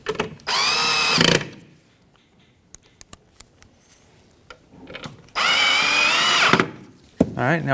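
A power drill drives in bolts holding an Acura MDX taillight in two loud whirring bursts, the second longer, separated by quiet clicks and handling noises, with a brief sound of a voice near the end.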